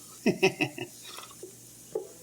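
Chopped onion and garlic cooking in a pan while a roasted bell pepper sauce is being made, heard as a few close clinks and stirring scrapes followed by a soft low sizzle.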